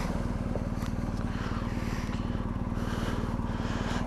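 A BMW R1250 GS Adventure with a twin boxer engine pulling away, a steady throbbing low engine pulse with dense regular firing beats and wind rush, heard from on the bike.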